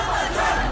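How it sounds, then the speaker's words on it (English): Crowd of protesters gathered outside the Armenian parliament in Yerevan, a dense, continuous roar of many voices shouting together, loud and steady throughout the short burst. "Outside the Armenian parliament in Yerevan, crowds gathered to protest against the renewed military operations"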